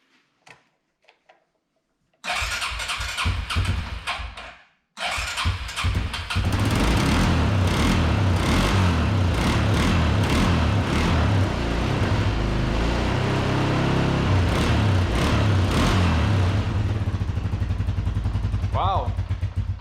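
A 1998 Arctic Cat 300 4x4 ATV engine, freshly rebuilt carburetor and flooded, cranks in short bursts, pauses, then catches and runs loudly and steadily up close with a rough, throbbing idle.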